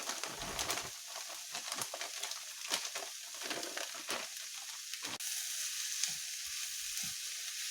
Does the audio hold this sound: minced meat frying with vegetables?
yes